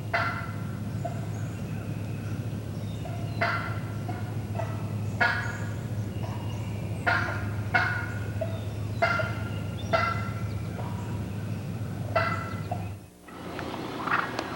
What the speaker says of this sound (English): Here's what I call excited, inquisitive clucking.